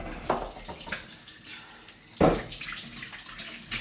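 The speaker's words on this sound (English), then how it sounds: "You'll hear my tap going because I want to put it straight in water" Water runs from a kitchen tap as play dough is held under it, a steady splashing flow with a few louder splashes and bumps near the sink.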